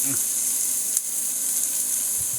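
Vegetables for tomato bisque sauté in a pan, giving a steady close sizzle with a brief clatter partway through and no talk.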